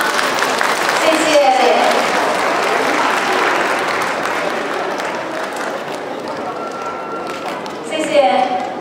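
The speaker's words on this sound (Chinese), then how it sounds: "来点掌声好吗？" Audience applause at a Chinese school graduation ceremony, a steady wash of many hands clapping that holds loud for several seconds, eases slightly, then swells again briefly near the end.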